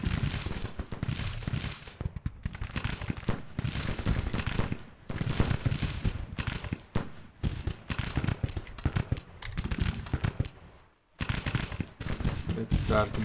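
Artillery battery firing in a Grand Tactician Civil War battle, a dense, continuous rumble of overlapping cannon and musket blasts with no clear gaps, loud and sustained apart from one brief lull near the end.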